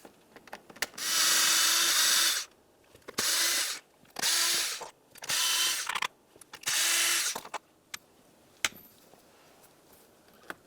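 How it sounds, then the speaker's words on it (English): A power screwdriver or ratchet driver removes Phillips head screws from the seat trim panel of a 2000–2006 Chevrolet Tahoe, whirring in five loud, separate bursts of a couple of seconds each, with small clicks between them and no talking. "you're going to find that you have 5 Phillips head screws holding it in place. Remove all 5."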